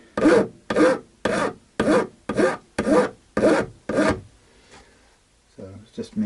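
Eight loud, evenly spaced rasping strokes of a file bevelling the fret ends on an Eko Ranger VI guitar during a refret, close up, then a pause before a few lighter scrapes.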